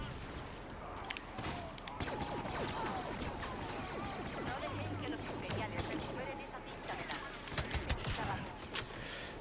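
Rapid blaster fire from a Star Wars Battlefront match, set in Rogue One infiltration mode with a TIE Striker, crackles in dense, overlapping bursts at moderate loudness beneath a player's speech, with sharper shots near the end.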